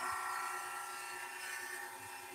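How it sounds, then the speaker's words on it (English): A wood lathe spins a pen blank while a chisel makes a gentle bevel-rubbing finishing cut, giving a steady, high, whining hiss that holds evenly for the whole stretch with no talking. "So you can get a bevel rubbing finishing cut."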